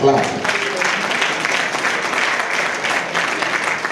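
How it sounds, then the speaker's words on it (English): Audience applause at an inaugural university lecture, a steady wash of clapping from a seated crowd that holds at an even level throughout, with a voice faintly audible beneath it. "If you want to clap."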